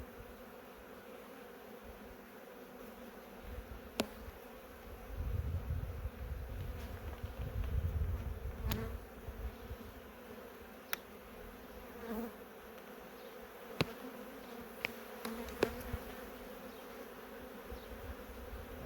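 Honeybees buzz in a steady close hum during a late-April double hive inspection, with occasional sharp clicks and frame knocks punctuating the drone.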